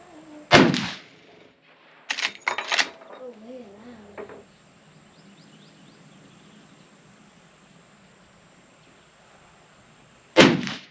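A Henry Model X lever-action rifle in .45-70 fires outdoors, with sharp loud reports near the start and again at the end and a quick cluster in between, over faint insect chirping and brief talk.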